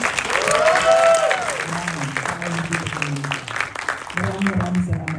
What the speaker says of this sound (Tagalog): Pwede yung palakpakan natin ang Sinag Maynila.